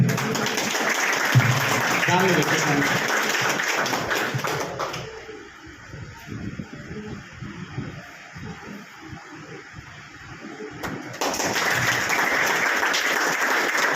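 An audience at a Target classes coaching function claps loudly for several seconds, then fades to scattered noise while a voice speaks, before a fresh loud round of applause swells up near the end.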